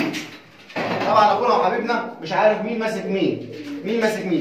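Pigeons in a loft cooing in low, throaty murmurs, mostly beneath someone talking close by.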